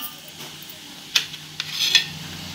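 Potato, carrot and bean pieces cook in a pan over a low flame for veg fried rice, giving a soft continuous sizzle with a few sharp clinks and scrapes of a utensil stirring against the pan.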